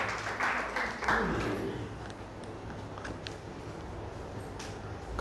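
A worship congregation clapping together, a steady wash of applause that stays fairly even throughout, with a voice speaking over it at first.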